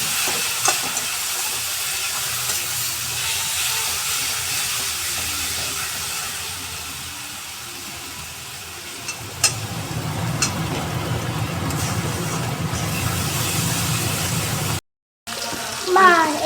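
Water poured into a pan of frying spice paste, a broad hissing sizzle rising partway through and continuing loud and close, with a brief cut near the end and faint kitchen clatter.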